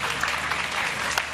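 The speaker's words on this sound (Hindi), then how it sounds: "तालियां होनी चाहिए भाई" Studio audience applause on a Hindi-language quiz show after a contestant wins an LED TV, a steady dense wash of clapping throughout the short stretch with no talk over it.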